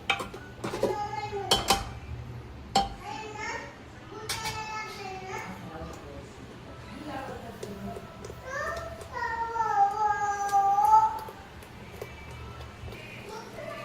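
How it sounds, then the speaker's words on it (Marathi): Ground masala paste sautéing in oil in a pan, a spatula stirring with scattered metallic clinks and scrapes, heard beneath louder background music and voices. "आता आपण याला चांगलं हलवून घेऊ आणि तेलामध्ये चांगलं परतून घेऊया."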